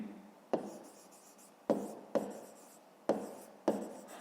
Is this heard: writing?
yes